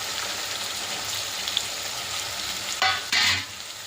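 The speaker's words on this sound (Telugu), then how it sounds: "ఉల్లిపాయలు, పచ్చిమిరకాయలు, టమాటాలు వేసేసుకుని బాగా మగ్గనిచ్చిన తర్వాత మిగతా కూరగాయలు కూడా వేసేసుకోవాలి అన్నీ" Onions, green chillies, tomatoes and mixed vegetables for veg kurma sizzle and fry in a pan, a constant close crackle that swells briefly louder near the end as the pieces are stirred.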